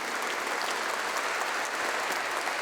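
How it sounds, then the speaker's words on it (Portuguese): A church congregation claps together in a dense, even roar of applause that holds steady at full strength from start to finish, with no voices over it. "Uma salva de palmas à palavra do Senhor."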